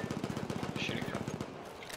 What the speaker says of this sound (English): Shooting gun.